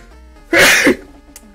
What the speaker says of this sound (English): I blame my sneeze for that one.